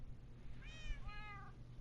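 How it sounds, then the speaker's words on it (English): Two meows from cats in Minecraft on Bedrock Edition, one after the other near the middle, each rising and falling in pitch over a low steady background hum, clear and fairly close. "Man, look at all these cats."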